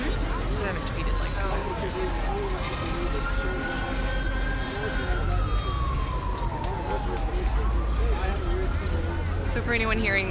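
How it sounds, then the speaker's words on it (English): A fire truck siren wails along City Park Avenue in New Orleans, a long rising and falling tone heard at a distance over steady street noise and crowd murmur at an outdoor monument removal. "that was a fire truck going up City Park Avenue"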